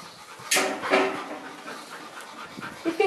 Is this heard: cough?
no